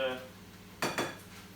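Mushrooms and onions being stirred in a small cooking pan for stuffed peppers, two quick scraping clinks of a utensil against the pan over a soft sizzle, close by, with a voice trailing off at the start.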